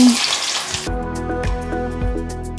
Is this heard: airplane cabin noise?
no